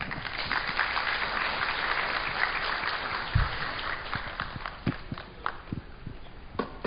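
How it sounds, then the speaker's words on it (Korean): An audience at a malware analysis talk applauds, a dense sustained clapping that fades into scattered claps toward the end. "최상영 파운더님께 다시 한번 큰 박수 부탁드리겠습니다"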